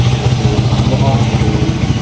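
A motorcycle fitted with a sidecar idles nearby with a steady low chugging throb, running continuously under the ambient noise.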